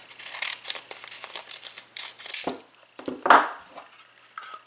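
Scissors trim a strip of junk mail paper into a Bible tab. Short close snips and paper rustles come in uneven bursts, and one sharper metallic cut stands out near the end. No one speaks.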